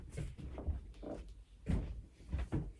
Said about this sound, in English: my cat is fighting the door